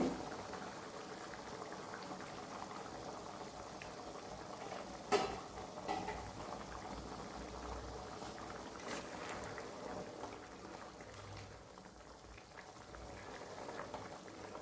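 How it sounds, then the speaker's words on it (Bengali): Vegetables simmer in water for a sweet corn soup, a faint, steady bubbling boil with an occasional soft knock or clink from the pot. "এখানে তরকারিগুলো একটু সেদ্ধ হবে।"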